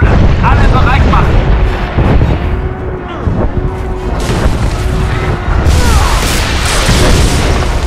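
Heavy, rumbling explosions from an attack striking a starship in the Star Wars: The Old Republic video game, loud and continuous with layered booms and sci-fi effects throughout, with voices partly audible in the mix.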